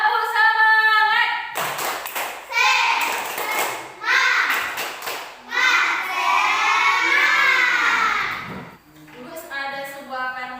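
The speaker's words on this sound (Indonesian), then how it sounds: "Tepuk semangat." A primary classroom of fourth-grade children claps and shouts together in a rhythmic group chant, led in turns by a voice, with bursts of sharp, loud clapping between the chanted lines.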